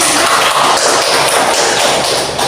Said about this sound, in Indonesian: Benar sekali, beri tepuk tangan dulu untuk